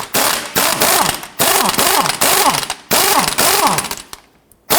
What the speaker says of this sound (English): we have our 19mm socket, we have our impact gun